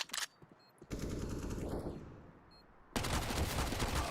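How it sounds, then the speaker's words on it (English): Galil rifle sprayed in Counter-Strike during a PAL 2020 esports match: a short burst of automatic gunfire, then a longer stretch of rapid shots and a final loud, sustained spray, all close and with no talk. "Advent sprays him down with the Galil"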